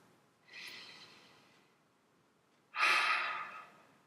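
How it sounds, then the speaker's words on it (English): Two slow, airy breaths close to the microphone in a quiet room, a softer inhale followed after a pause by a louder, fuller exhale, with no talking. "take a deep breath."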